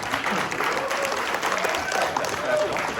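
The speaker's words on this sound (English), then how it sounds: "give him a round of applause" A crowd at a group meeting claps steadily for a few seconds, a dense patter of applause with voices mixed in.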